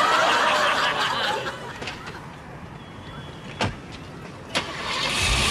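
A car engine starts and the car pulls away in a comedy sketch, a steady broadband motor rumble with two sharp knocks partway through, loud and close throughout.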